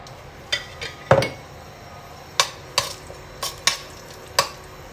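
Whole garam masala spices, including cloves and a large piece of cinnamon, dropped into a pan for chicken stew: a series of sharp clinks and rattles, about eight distinct hits spread across the clip, close and fairly loud with no talking.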